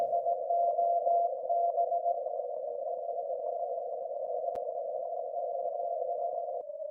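A steady Morse code CW tone on an amateur radio receiver during a slow speed CW contest, holding one clear pitch throughout with a faint click near the end and no talk.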